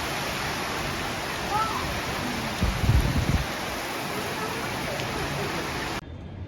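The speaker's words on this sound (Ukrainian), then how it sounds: "Дуже-дуже сильний дощ." Very heavy rain pours steadily in Vietnam during a possible typhoon, a dense, continuous roar that fills the whole scene and cuts off abruptly near the end.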